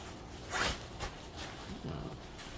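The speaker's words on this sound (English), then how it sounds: "It's got a zipper." The zipper on a pet carrier is pulled in a few quick rasping strokes, close and fairly quiet, with soft handling rustles between them.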